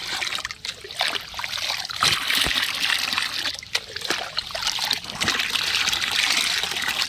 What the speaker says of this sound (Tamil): இப்போ இந்த சாம்பலை கலக்கி விட்டு நல்லா தரோவாக கலக்கி விட்டுட்டு